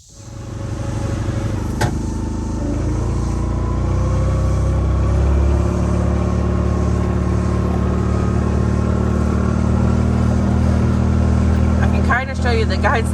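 Car engine hums steadily from inside a vehicle on a drive around a homestead, a continuous low drone lasting throughout with road rumble, and a brief sharper noise near the end.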